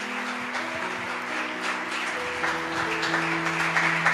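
A church congregation applauds during an evening worship service, a steady wash of many hands clapping at moderate volume with sustained keyboard or organ tones held underneath throughout.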